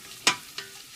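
Cumin seeds frying in hot oil, two sharp stirring scrapes over a quiet background of faint sizzle, the first louder than the second.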